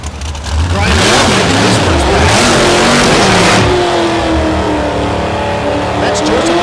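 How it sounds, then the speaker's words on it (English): A 1967 Camaro drag race car launches at a drag strip with a loud, near engine roar, pitch sweeping upward through rapid gear changes, then holding a high scream as it pulls away, with a voice over it. "Buska in the right lane, the 67 Camaro"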